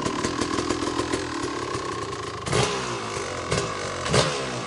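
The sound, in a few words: 1997 KTM 360SX motorcycle engine kick-started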